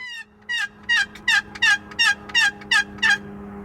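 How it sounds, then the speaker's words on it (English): A wild turkey hen calls in a series of about eight evenly spaced, raspy yelps, loud and close against a quiet background. "This here was a very talkative hen."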